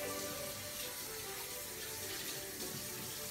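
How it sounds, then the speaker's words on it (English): A kitchen tap runs steadily during handwashing, a continuous hissing splash of water into a sink, faint and unbroken with no voices. "the first thing we gotta do is we gotta wash my hands"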